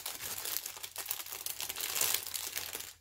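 A plastic bag crinkles and rustles continuously as it is handled and set aside, close and crisp, with no voices.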